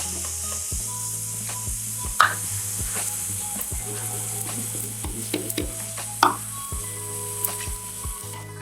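Ground tomato paste sizzles and fries in oil with ginger and garlic for mutton sukka, a steady crackling hiss. Occasional stirring scrapes and utensil taps sound close by, and no one talks.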